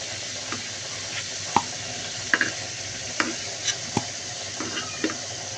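Potato pieces frying in hot oil in a pan for a home-style Bengali chicken and potato curry, a dense constant sizzle broken by light scraping taps of a spatula stirring them.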